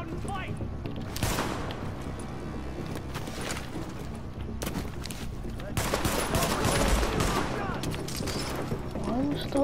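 Pistol gunfire in the video game The Division: repeated sharp shots and bursts of fire over a busy game soundscape, with a voice talking throughout.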